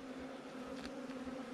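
Gentle honeybees from a swarm trap hum in a constant, close buzz with a steady drone and faint wingbeat flickers, with no talking.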